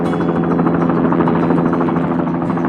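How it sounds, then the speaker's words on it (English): Animated blue helicopter flying over a city in the morning, a steady loud rotor drone and engine buzz running continuously throughout with no pauses. "a blue helicopter glides gracefully through the morning sky."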